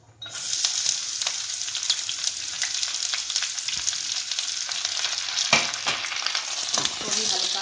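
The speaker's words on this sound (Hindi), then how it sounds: "प्याज हमारा हल्का हल्का गुलाबी हो चुका है, इसको ज़्यादा नहीं भूनेंगे हम" Chopped onions and green chillies fry in hot oil with whole coriander seeds, a steady bright crackling sizzle with occasional stirring clicks and scrapes, fairly close.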